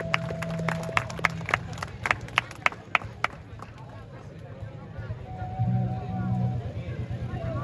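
A school seminar audience breaks into a burst of scattered hand claps that fades after a few seconds, followed by a speaker talking over room murmur.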